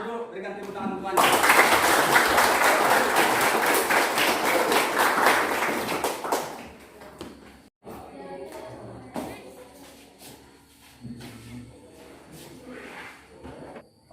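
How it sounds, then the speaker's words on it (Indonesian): Classroom audience of students applauding, a dense burst of clapping for several seconds that stops abruptly, followed by quieter room noise and voices. "berikan tepuk tangan untuk Anda"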